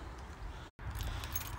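Car keys jangle and rattle close by, a steady metallic shuffling that stops for a split second, then resumes.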